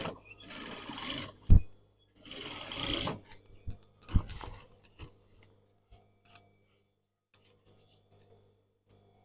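A sewing machine stitches a tassel onto layered denim in two short, close bursts of running. Scattered clicks and taps of fabric handling follow, then near silence.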